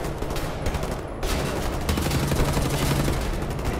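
Gunfire from Nazi soldiers in the video game Wolfenstein: dense, continuous bursts of shots and rapid automatic fire. It rattles on loud and close across the whole stretch, with a brief dip partway through before the barrage resumes.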